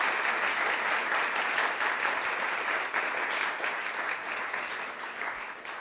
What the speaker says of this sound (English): give a quick applause to our panel before we get started